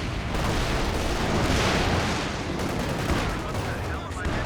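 A Nebelwerfer rocket artillery barrage in Company of Heroes 2 pours down as a dense, continuous wash of explosions and gunfire, loud and unbroken for the whole stretch, with a voice faintly under it.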